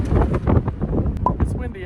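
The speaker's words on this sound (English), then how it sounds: "It's windy out here, guys." Gusty wind at an off-grid homestead buffets the microphone in a steady rumbling rush, with a voice faintly audible underneath.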